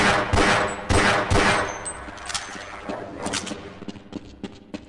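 Grenade explosions in the video game Half-Life, a burst of several loud booming blasts mixed with gunfire, followed by scattered smaller shots fading off.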